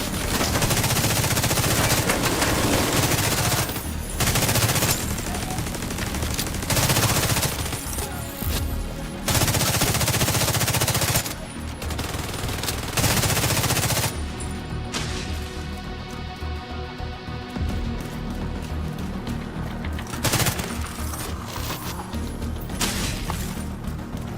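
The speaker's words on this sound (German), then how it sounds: "Ich höre Schüsse." Video game gunfire from The Division 2 rattles in dense automatic bursts and rapid shots, loud and nearly continuous, then thins into a lighter crackle toward the end.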